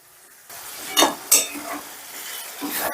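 Masala for paneer do pyaza cooking in a pan, with a soft bubbling sizzle and two sharp stirring scrapes near the start, then a steady low simmer.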